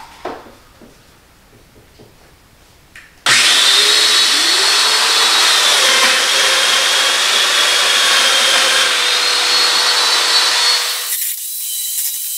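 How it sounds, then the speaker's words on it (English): A power tool starts abruptly and cuts slots into wooden boards for a glued-up table top, giving a loud, steady whining, rasping roar for about eight seconds before spinning down. "For these first cuts, I'm just going to do the normal size slot."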